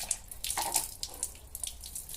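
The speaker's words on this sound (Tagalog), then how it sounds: "Ngayon na po kasi ang tulo ng tubig dito pagka ganitong tanghali." A tap running at low pressure at midday during a summer water shortage gives a thin, uneven splashing trickle with small irregular spatters, steady and close throughout with no voices.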